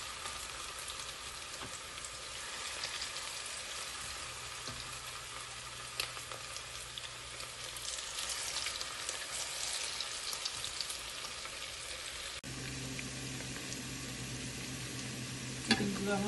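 Chicken pieces deep-fry in oil with a faint, even, continuous sizzle like light rain that holds steady throughout, with a few soft clinks and shifts midway.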